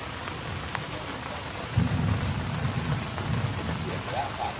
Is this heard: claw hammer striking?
no